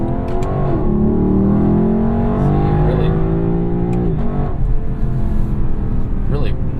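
A 2018 Lexus LC 500 with a tall rear axle ratio and 10-speed automatic pulls hard through the gears, its engine note climbing steadily with a shift near the middle, while someone talks over it throughout.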